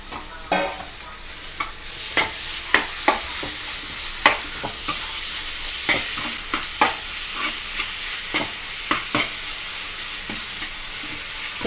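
Thin strips of boneless chicken sizzle and fry in a pan for a chicken kajjikaya stuffing, with repeated sharp stirring scrapes of a spoon against the pan over a steady hiss, close up and without talk.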